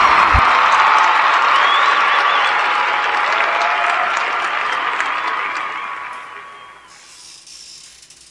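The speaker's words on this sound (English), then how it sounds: "A big applause for Gaëtan." A live audience applauds a saxophonist newly arrived from France, a dense, loud burst of clapping with a little cheering that holds steady, then thins and fades out over the final seconds.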